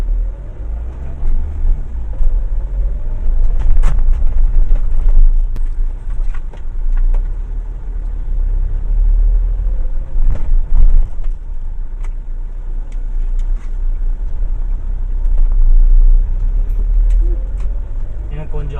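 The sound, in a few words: car driving fast on the road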